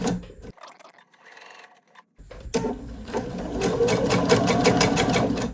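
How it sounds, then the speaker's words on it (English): A sewing machine stitching flower appliqué petals onto a quilt table topper pauses briefly, then restarts with a steady, close, even mechanical whir of rapid stitches that builds and holds. "I'm going to stitch really close to it to get to the next petal"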